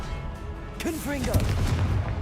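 Confringo blasting spell cast in the Hogwarts Legacy video game, a short burst of booming, crackling impacts following a voice, with low rumbling that continues after the blast.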